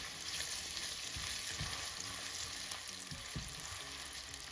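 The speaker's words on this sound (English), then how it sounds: "I'm gonna add my onion in my oil. I have about 3 tablespoons of oil, so I'm gonna fry this up" Onion frying in about three tablespoons of oil, a steady close hiss and sizzle with faint stirring scrapes, heard on its own.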